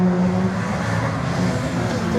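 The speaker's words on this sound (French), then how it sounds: "Rouge, mesdames et messieurs, en piste." A Group N rally car on a slalom course at Saint-Lô, its engine droning loudly and steadily close by, with a slight rise in pitch toward the end.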